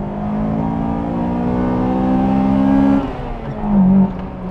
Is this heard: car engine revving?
yes